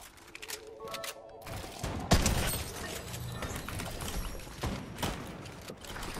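Rapid video-game gunfire from Fortnite during a competitive FNCS match, with bursts of shots and sharp cracks overlapping continuously across the scene, loud and dense, mixed with clattering mechanical effects and a few distant shots.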